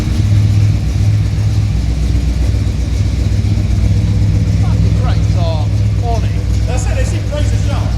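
A Chevy Chevelle engine rumbles loudly and steadily as it builds toward a burnout, a deep continuous roar close by, with people talking and shouting excitedly over it.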